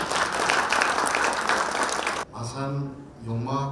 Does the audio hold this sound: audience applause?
yes